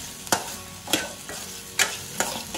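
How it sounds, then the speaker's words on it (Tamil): Brinjal pieces stir-fried in a pan for a Tamil-style chutney sizzle steadily beneath four sharp spatula scrapes against the pan at roughly even intervals, close up, with no voices. "கத்திரிக்காயோட பச்சைவாடை போகிற வரையும் வதக்குங்க."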